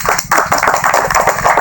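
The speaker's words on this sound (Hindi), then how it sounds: "ताली बजा" An audience at a live religious gathering claps hands in a brisk, dense burst of rhythmic clapping, close and loud.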